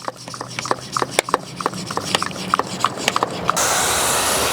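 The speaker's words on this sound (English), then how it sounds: "Then we pump it to make it foamy." Someone works the hand pump of a pump sprayer full of Chemical Guys tire cleaning solution to foam it, giving a run of rhythmic squeaky strokes, then a steady close hiss of pressure.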